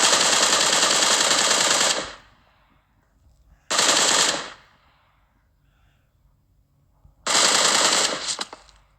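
Video game gunfire comes in three loud bursts of rapid automatic fire, each lasting one to two seconds, with short gaps of quiet between them.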